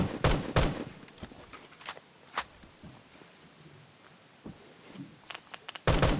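Roughly three sharp gunshots from a shooter video game ring out, spread across the moment with quieter shuffling and footstep-like sounds between them and a final loud burst at the end.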